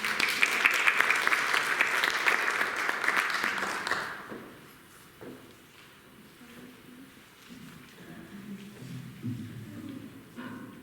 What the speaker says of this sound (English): Can we give Jeff a round of applause?